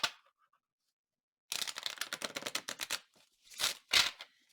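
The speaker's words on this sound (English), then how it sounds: "oh, I need to shuffle one more time" Rapid papery riffling bursts as a deck of playing cards is shuffled, followed by a couple of sharp slaps, close and crisp after a brief quiet start.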